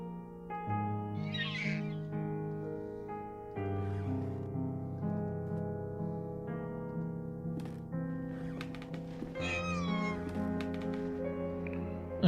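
A cat in the point-and-click horror game The Last Door meows a few times over a steady, droning musical score, the cries standing out briefly above the layered game music.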